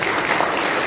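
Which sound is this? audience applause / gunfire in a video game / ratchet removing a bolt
audience applause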